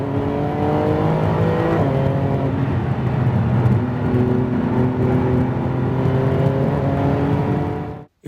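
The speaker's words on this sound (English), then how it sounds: "Porsche 911 GT2 RS Manthey Performance Kit." A Porsche 911 GT2 RS with the Manthey Performance Kit races flat out at the Nürburgring, its engine roaring loud and close with a steady high-revving drone. The pitch shifts through quick gear changes before the sound cuts off abruptly.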